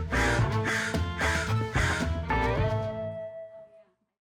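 A crow caws in a series of about five loud, harsh, evenly spaced calls, close by, the last one trailing off into silence.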